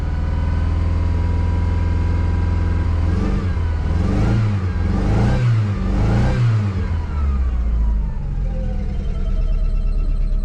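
A Dodge Neon that had been sitting, bought for $500, revs up in three strong surges when given gas, the engine climbing and falling back each time, close and loud with no voices.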